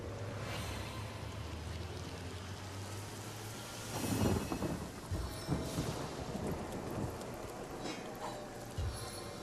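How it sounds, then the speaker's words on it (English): Rain and thunder from a spell in the video game Divinity: Original Sin hiss steadily, with rumbling thunder swelling midway and a few more low crashes after. "And make it rain harder."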